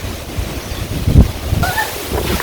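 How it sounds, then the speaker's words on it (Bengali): Steady rushing wind gusts across an open microphone in a village as rain clouds approach, with a broad noisy roar and a brief stronger buffet midway. "তো বাতাস ছুটে গেছে"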